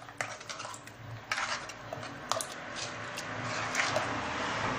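Harira ingredients being stirred in a pot for Moroccan soup, with a spoon clinking and scraping against the metal in irregular knocks and a soft background rustle.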